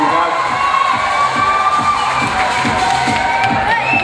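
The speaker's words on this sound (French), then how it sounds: "Bravo, applaudissements pour toutes les candidates." A pageant crowd applauds and cheers for the candidates, loud and close, with rhythmic clapping in time under shouts and whoops that fill the whole stretch.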